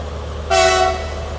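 A WDG4G diesel locomotive on a passing freight train gives a single short, loud horn toot over steady engine rumble.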